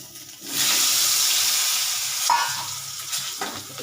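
Potatoes drop into hot oil in a pan for a Bengali chicken curry, setting off a loud sizzle after a short pause that holds steady and then eases, with a few stirring clinks and no talk.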